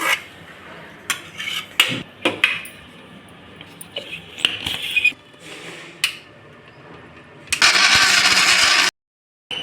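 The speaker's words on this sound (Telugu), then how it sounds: "ఈ మొత్తం కలిపి మిక్సీ పట్టుకోవాలండి మెత్తగా పట్టుకోవాలి" Kitchen clatter of lids and utensils gives way to a mixer grinder whirring loudly for a brief burst as it purees tomatoes with coriander for chutney, then cuts off abruptly.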